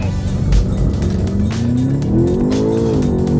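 A BMW X6M Competition and an Audi RSQ8 Performance launch side by side in a drag race, a loud engine roar climbing steadily in pitch with a faint tire chirp, close and continuous.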